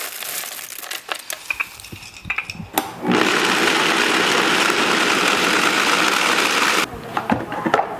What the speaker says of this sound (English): We're taking our dried seeds and putting them into a Vitamix or just a high-powered blender.